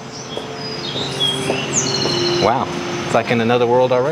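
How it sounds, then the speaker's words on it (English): Birds chirp in short high tweets at a historic site in Springfield, Illinois, partly masked by steady background hum and a person talking over them. "You can hear the birds chirping."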